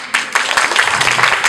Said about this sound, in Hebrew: קהל יקר, קבלו בבקשה במחיאות כפיים את הילדים שעבדו כל כך קשה על ההצגה.